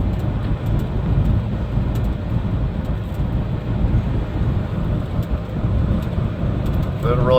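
A Ford Escape with a 1.6L turbo engine drives along, a steady low engine and road rumble from inside the cabin with no distinct acceleration peak.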